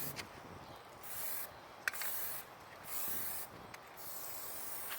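Plasti Dip sprayed from an aerosol can onto car trim and grille, heard as several soft, steady hissing bursts of a second or so each, separated by short pauses, faint and fairly distant with no talk.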